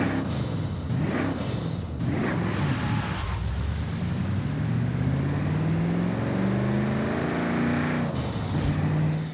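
Bentley Turbo R with a 6.75 litre turbocharged engine, driven in Forza Horizon 5, roars loudly and steadily, with rising revs near the start and a continuous engine drone throughout.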